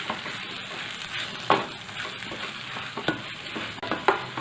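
A spoon stirs suran khichdi mixed with lemon juice in a hot pan over a gas flame, a soft continuous scraping and light sizzle with a few sharper clinks against the pan, close up and with no voices.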